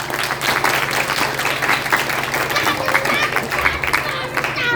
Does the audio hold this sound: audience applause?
yes